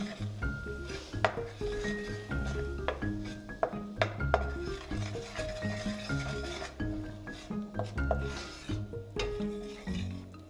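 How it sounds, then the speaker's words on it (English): Wheat flour stirred continuously while roasting in a pan for halwa, a steady rhythm of spoon scrapes and clinks against the metal, close and clear with no talk. "we're just roasting it by just stirring it continuously"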